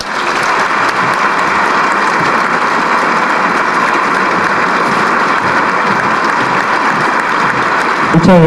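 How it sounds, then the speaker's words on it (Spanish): Loud, sustained applause from a large conference audience, a continuous roar of clapping that holds evenly from start to finish. "Recibamos con un caluroso aplauso al licenciado Ebrard Casaubon."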